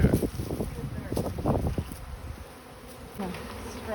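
A honeybee swarm buzzing around a hive, a dense hum with individual bees passing close to the microphone, under people talking outdoors in light wind.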